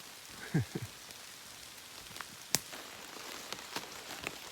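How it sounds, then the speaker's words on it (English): Rain falling on an Appalachian Trail hiking path among fresh green leaves, a soft steady hiss of drops with scattered sharper taps and drips nearby, and a brief murmur of voice early on. "it wasn't raining too hard in the beginning"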